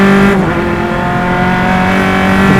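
Single-seater race cars in an SCCA club race at Mid-Ohio pass on the front straightaway, engines loud and close, one sustained high drone with a shift in pitch.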